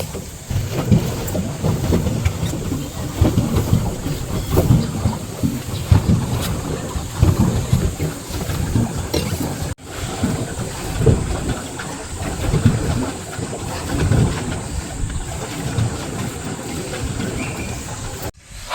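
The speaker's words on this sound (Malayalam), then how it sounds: "ചെറിയൊരു പെഡൽ ബോട്ടൊക്കെ കയറി" A small pedal boat moves across a large lake, giving a steady wash of water and wind noise with faint creaking, continuous and fairly close, with no talk.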